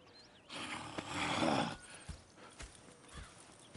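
Horses in the western video game Red Dead Redemption 2, a snorting whinny followed by a few soft hoof thuds, fairly close with faint background ambience.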